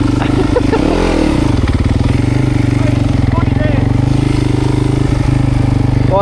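A small pit bike engine runs loud and close throughout, with a steady droning note and bursts of revving, while people talk over it.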